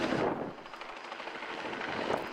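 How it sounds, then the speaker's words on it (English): Helicopter flying during heli-ops lifting work for a coastal cleanup, its rotor and engine noise a steady, loud, continuous roar with a pulsing edge, swelling slightly at the start and end. "The only time things paused for a moment is if the helicopter needed to come down to refuel."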